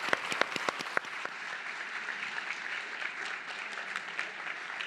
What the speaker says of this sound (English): Round of applause for our wonderful panel.